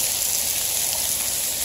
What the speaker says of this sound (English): I hope this really gives us a good amount of rain.